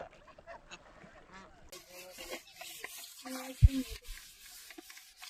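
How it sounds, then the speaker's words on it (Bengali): Geese honk in short, uneven calls beside a river at the edge of the Sundarbans forest, with one louder honk standing out midway over a quiet outdoor background. "নদী আর নদীর পাড়ে কত রাজহাঁস"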